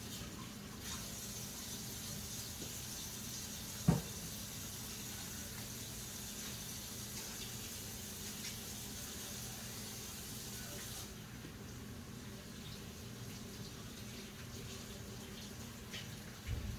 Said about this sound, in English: wash my hands at the same time the bowl